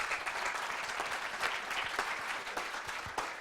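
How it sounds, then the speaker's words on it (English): Audience applause at a 1 Million Cups Wichita startup pitch event, steady dense clapping from a room full of people, sustained at even loudness throughout. "Let's give them a round of applause."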